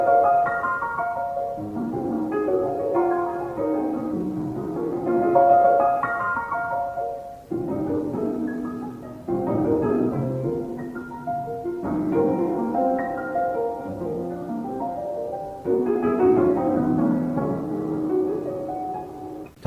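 Instrumental music built on a whole-tone scale plays alone, a steady run of melodic phrases with a tinkling, chime-like tone, moderately loud and unbroken for nearly twenty seconds.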